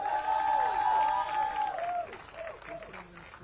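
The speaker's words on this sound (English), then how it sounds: "Big round of applause to them." Applause and crowd noise for trophy presenters at an Indian Racing League race event at a Chennai circuit, heard under a loud, near voice over a public address that dominates the first half, with clapping fading as the voice stops.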